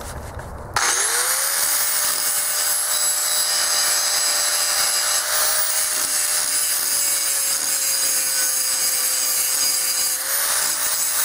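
A power saw cuts steel pieces for a shipping-container trailer bogie, starting abruptly and then holding a loud, steady, continuous grinding whine for about ten seconds. No one speaks.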